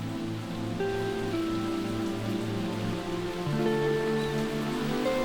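Heavy rain falls steadily on a sandy bird breeding ground where a white plover crouches over eggs, a constant close patter of drops with no voices, with faint tonal bird-like notes drifting above it.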